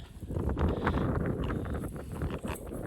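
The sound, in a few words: wind blowing into microphone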